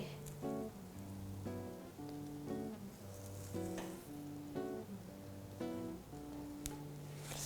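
A Thai stuffed omelette sizzles softly in a frying pan, a faint continuous crackle running beneath a prominent melodic music track.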